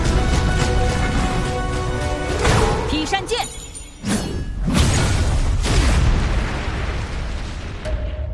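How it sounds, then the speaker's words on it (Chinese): A loud animated explosion from the Iron Heroes cartoon, a heavy boom with bursts and crashing debris that rumbles on for several seconds over a dense score, with dialogue spoken over it. "为什么只有这里爆炸最明显？"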